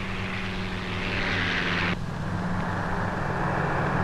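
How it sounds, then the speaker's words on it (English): A Ventura bomber with a missing left tire descends to land on a coral runway on Morotai Island in 1945, its propeller engines droning loud and steady with a sudden drop in high-end roar midway through. "the pilot of this Ventura bomber comes in to land"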